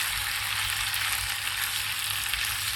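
Chicken pieces fry in a pan of spicy Manchurian sauce with a steady, close sizzle that stays even throughout, with no talking.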